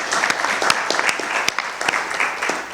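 Audience applause at a closing panel on academia and social justice, given for the translators: a short burst of steady clapping from a moderate-sized crowd, even and sustained, with no talking over it.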